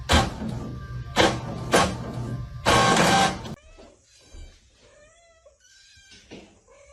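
Kitten meowing in several loud, close calls, three or four bursts in a row, followed by quieter squeaky chirps and faint noises.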